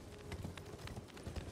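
Horse hooves clip-clopping at a run in the video game Elden Ring, a steady rapid rhythm of soft thuds at moderate level, close and continuous with no talking.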